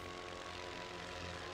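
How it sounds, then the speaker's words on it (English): Propeller-driven World War I biplanes in a Great War video game drone steadily overhead, a continuous low engine hum that stays faint and even throughout. "The planes are just floating around."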